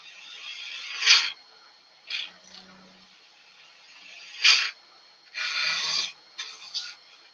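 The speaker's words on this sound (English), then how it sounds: "I'm riding the bevel with this parting tool" Parting tool cutting a wood and resin blank on a lathe, heard as a few separate rasping scrapes of about a second each, close and moderately loud, with quiet gaps between them.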